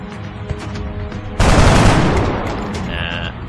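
Gunfire in the video game X-COM erupts partway through as a sudden loud burst of shots, then trails off into a decaying rumble, after quieter game ambience and a few soft clicks.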